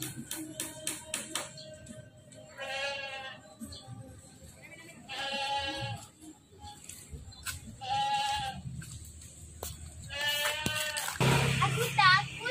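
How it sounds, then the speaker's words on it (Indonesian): Small and large goats on a farm give loud, wavering bleats in four separate bursts. Someone speaks and hands clap between the calls. "itu ada kambing kecil sama kambing gede semuanya"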